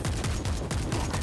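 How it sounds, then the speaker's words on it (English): An auto shotgun fires in a video game as a steady run of rapid, loud, close blasts filling the whole short stretch, with no talk. "Enjoy my auto shotgun."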